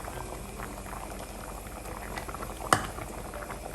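Wild broth boiling steadily in a pot on the stove, a dense bubbling wash with one sharper pop near the end; no one speaks.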